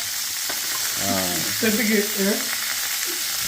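Onions frying in oil for a mutton curry, giving a steady broadband sizzle with a voice talking over it in the middle.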